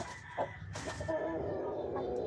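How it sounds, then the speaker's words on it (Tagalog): Hens cluck and murmur nearby in a soft, uneven chatter, with a few sharper squawks standing out over a steady farmyard background. "Nagsisimula na po mangitlog ang aking mga manok."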